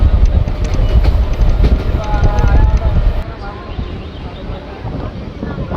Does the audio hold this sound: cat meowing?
no